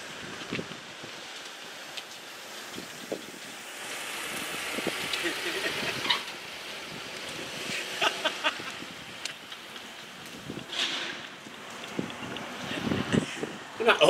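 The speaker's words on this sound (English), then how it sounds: "We're supposed to be having 10 mile an hour winds with little gusts up to 12 to 15 miles an hour" Wind of about 10 mph with gusts to 15 mph buffets the microphone in uneven rushes in a car park, rising and falling over steady rumbling noise, with a few sharper thumps along the way.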